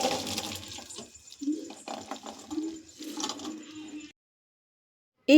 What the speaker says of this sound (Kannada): ಈ ಕಡೆ ಒಂದು ಬಸಿಯೋದು ಇಟ್ಕೊಂಡಿದ್ದೀನಿ. ಸಾಂಬಾರು ಮತ್ತು ಕಾಳನ್ನು ಸಪ್ರೇಟ್ ಮಾಡ್ಕೊತಾ ಇದ್ದೀನಿ.